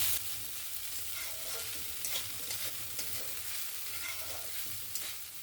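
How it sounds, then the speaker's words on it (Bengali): Soft, steady sizzle in a pan with repeated scraping strokes of a spatula stirring flattened rice (poha), fairly faint and without voices. "চিড়েটা দিয়ে ভালো করে মিক্স করে নিয়েছি"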